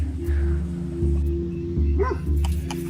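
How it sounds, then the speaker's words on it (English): A dog barks and yips repeatedly at close range in short bursts at a woodland campsite, with a low steady hum running underneath. "the dog just heard something running around. Just sprinted over there and started barking."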